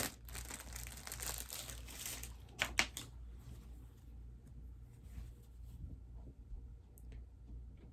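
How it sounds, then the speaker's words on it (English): Plastic packaging crinkles and crackles as items are unwrapped and pulled out during a haul, loudest at first with a couple of sharp rustles, then fading to faint intermittent rustling. "Sorry for the crinkling."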